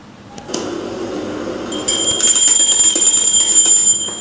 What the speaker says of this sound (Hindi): यहाँ पे अब दोस्तों हमें बजाना है घंटी।